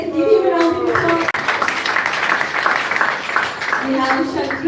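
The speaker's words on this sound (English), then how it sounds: "Let's give him a round of applause" A crowd at a kirtan gathering applauds the singer, a dense patter of clapping in the middle stretch, with someone speaking just before and right after it.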